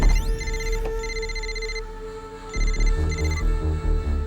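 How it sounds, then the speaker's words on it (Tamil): A telephone rings during a call in a Tamil gangster film scene, a bright electronic ringtone repeating in short tonal bursts over a low rumbling music bed. "மாறனுக்கு ஃபோன் போடு"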